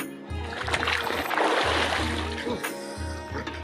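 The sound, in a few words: person dipping into river water, splashing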